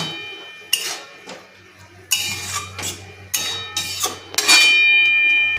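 Clanks and scrapes of a spoon against a pot of masoor dal with kolmi greens as it is stirred, several separate metallic knocks with pauses between them, ending in a longer ringing clatter as the lid goes on.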